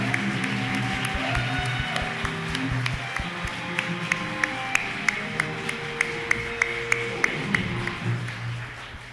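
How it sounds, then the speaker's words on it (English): Audience applause at a St. Paul mayoral forum, a sustained wash of clapping with some rhythmic claps standing out and talk or music faintly underneath. "So big round of applause, Thao."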